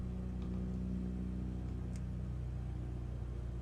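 A Piper Cub engine running steadily in Flight Simulator 2020 during a carb heat check, a constant low droning hum with no clear change in pitch, heard alone.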